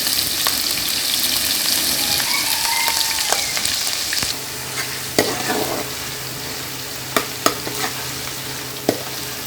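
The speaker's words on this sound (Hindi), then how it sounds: "ग्रेवी में ऑयल लिया है, इसके अंदर हमने अदरक लहसुन का पेस्ट डाल दिया" Steady oil sizzle of ginger-garlic paste frying fills the background while a utensil scrapes and taps the pan now and then, close and continuous.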